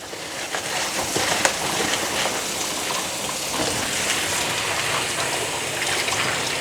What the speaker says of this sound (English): I'm gonna wash some spinach.